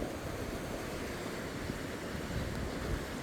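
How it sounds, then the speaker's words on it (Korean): Ocean waves wash against the rocky shore below a small seaside temple, a steady, continuous roar of surf that fills the whole stretch with no pauses and no voices. "늘 파도 소리와 함께 있죠"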